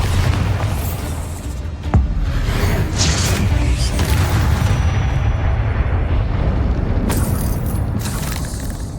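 Bombarda blasting spell cast in Hogwarts Legacy, a loud booming explosion with a sharp burst near two seconds, then a sustained rumbling roar and further thuds throughout, no talking.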